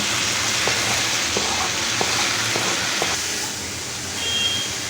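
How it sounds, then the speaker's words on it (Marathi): Tomatoes sautéing in a pan make a constant hissing sizzle, broken by a few light taps and scrapes of stirring. "आता टॅमॅटो घालताय ना आधी टॅमॅटो परतून"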